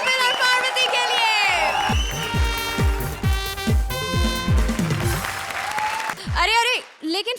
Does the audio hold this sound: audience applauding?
yes